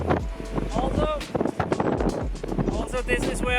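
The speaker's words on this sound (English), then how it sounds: "it's quite windy up here." Strong wind gusts at the highest point of the Grande Traversata Elbana hiking trail on Elba, buffeting the microphone with heavy rumbling bursts while someone talks over it.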